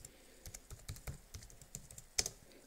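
Fingers type on a Dell XPS 15 laptop keyboard, giving a string of quiet, close key taps at an irregular pace, ending with a sharper, louder keystroke.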